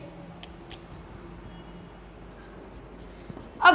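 Chalk or marker scratches out an algebra term on a classroom board in soft, brief strokes, close by and otherwise quiet, ending in a louder knock.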